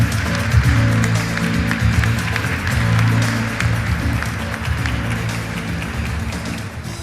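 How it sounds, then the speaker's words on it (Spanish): Conference audience applauding, dense sustained clapping from a large crowd with some music-like tones underneath, fading slightly toward the end. "Recibamos con un fuerte aplauso a Soledad Barruti."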